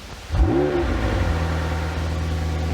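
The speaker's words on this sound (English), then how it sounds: "it's pretty rare that you get to feel and hear what it's like to start one of these cars up" A McLaren 720S Spider supercar engine fires up with a sharp starter whine and a loud rising bark, then drops into a steady, deep, rumbling idle heard close up from inside the car.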